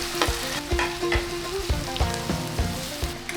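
Onion and tomato fry in a pan, giving a steady sizzle broken by repeated scraping stirs and metallic clinks of a spoon against the pan, heard close up and without talk.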